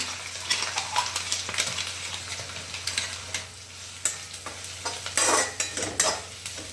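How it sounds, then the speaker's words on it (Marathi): Mustard seeds, curry leaves and garlic crackle and sizzle in hot oil, close up, with frequent sharp popping bursts and a few stirring scrapes against the pan, no voices. "आता ह्याच्यात मोहरी टाकते याचा कढीपत्ता हा जो लसूण आहे हा पण टाकते"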